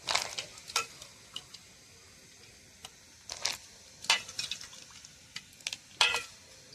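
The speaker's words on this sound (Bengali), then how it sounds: "বাদাম, কিশমিশ, কাজু একসঙ্গে করে একটু ধুয়ে নেব জল দিয়ে" Nuts, raisins and cashews are rinsed in water, giving soft intermittent splashes and sloshes with brief clinks against the bowl, faint and close.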